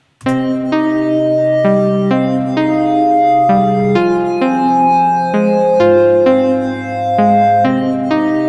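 A sequence of sustained synthesized chords played in FL Studio 20 changes roughly every second or so, loud and clean with no voices.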